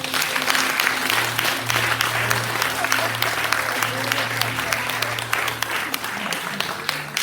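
Church congregation applauding, a sustained, even roar of many clapping hands filling several seconds, with voices murmuring beneath the clapping.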